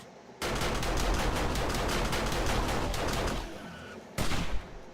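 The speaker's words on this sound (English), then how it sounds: "The amount of headshots these turrets make" Automated turrets rip through a zombie horde during horde night in a survival base, a loud dense stream of rapid gunfire lasting several seconds, then a short second burst after a brief pause.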